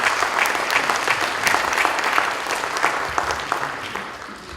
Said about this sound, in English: Let's give our folks at GBI a round of applause.